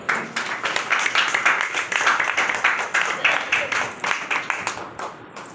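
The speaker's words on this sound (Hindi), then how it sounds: "एक बार जोरदार ताली बजाएं" A wedding congregation in a Christian ceremony bursts into sustained, dense hand clapping that rolls on evenly for several seconds, moderately loud and slightly distant, with no talking over it.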